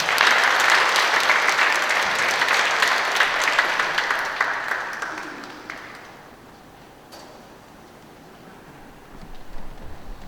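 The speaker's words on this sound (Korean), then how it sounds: "다시 박수로 부탁드릴까요?" A church congregation applauds at a Catholic Mass at Yeonsu parish in Incheon, steady dense clapping for about five seconds that fades away, then a quieter lull with a brief burst near the end.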